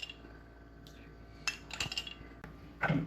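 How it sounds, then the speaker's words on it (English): A spoon stirs guava jam with sugar and lime juice in a pot, giving a few light metallic clinks and scrapes against the pot at irregular moments, fairly close and quiet. "So we're gonna give it a good stir."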